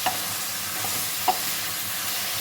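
Brinjal and fish curry is stirred in a pan over a steady, soft sizzle, broken by a couple of sharp spoon clinks against the metal.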